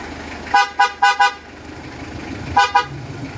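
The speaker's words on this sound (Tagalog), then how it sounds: "Tapos busina." Two bursts of short Bosch Evolution car horn honks on a Mitsubishi Adventure: four quick toots, a pause, then two more, loud and close.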